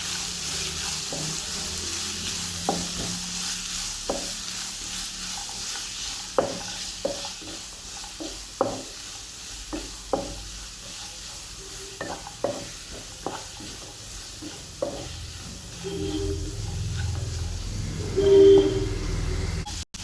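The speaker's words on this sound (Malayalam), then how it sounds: "ഉപ്പും കൂടെ ചേർത്തിട്ട് നന്നായിട്ടൊന്ന് വഴറ്റിയെടുക്കാം" Onions with salt sauté in a hot pan for a soya chunks fry, a soft steady sizzle broken by repeated scraping strokes of a spatula, close and moderately loud, with no talking.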